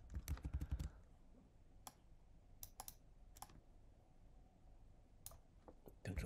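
Keyboard typing for a copy and paste shortcut: a quick burst of clustered key clicks at the start, then scattered single key taps, close and fairly quiet.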